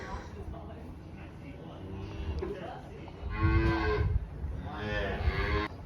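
Cattle low loudly nearby in two long moos, with fainter calls from calves and rustling inside a barn.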